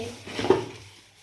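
New kitchen bowls being handled, a single close clink of dishware against another piece, short and soft against a quiet room.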